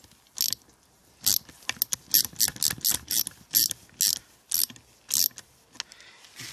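Ratchet wrench tightening a sealed oil drain plug on an H22 cylinder head, a series of crisp, close clicking bursts in an uneven rhythm with brief pauses between strokes.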